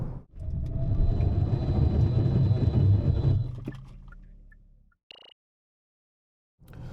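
A 2023 Hyundai Sonata 2.0 facelift in a braking test: loud road and tyre rumble that fades steadily as the car slows to a stop, then silence, with a short clunk near the end.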